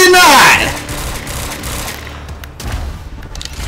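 A burst starter pistol fires in Quantum Break, a rapid rattling burst of gunfire at the start followed by scattered fainter shots and impacts, with a voice talking over part of it.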